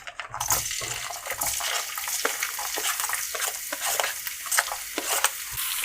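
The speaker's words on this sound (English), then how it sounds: "we're gonna add our garlic" Garlic sizzles hard in a generous pool of olive oil in a pan, a loud, continuous crackling fry with rapid popping spatter throughout, heard up close with no talking.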